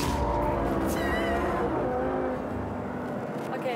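An Audi R8 with all-wheel drive and heavily tuned power drives hard on a track, its engine roaring steadily while the tyres squeal and scrub throughout, loud and close.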